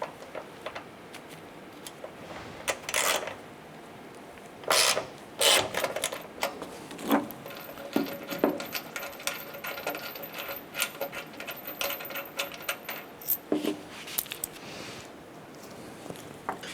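Ratchet loosening a bolt on the tailgate of a 2011-2018 Ram 1500 pickup, scattered bursts of quick metallic clicking with clanks and pauses between, close up and fairly quiet, no voices.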